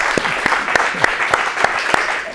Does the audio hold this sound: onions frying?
no